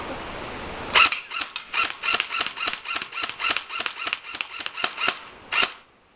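A DPMS Panther carbine fires semi-auto in a shooting test: about fifteen sharp, loud shots in quick regular succession over roughly five seconds, then silence.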